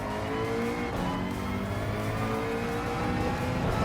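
A GR3 race car in Gran Turismo 7 revs hard through the gears on a hotlap at Kyoto, its engine note loud and continuous with rising and falling pitch.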